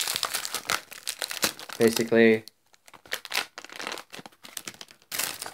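Thin plastic of a smack balloon crinkles and crackles as it expands, with short dry bursts and one squeaky stretch, while a person talks over it.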